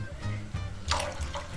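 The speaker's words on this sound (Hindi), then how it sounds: "इतना पानी हम और डाल रहे हैं बस" Water pours into a pot of potato curry, a brief splashing trickle with a louder gush near the end, close and soft, no talk over it.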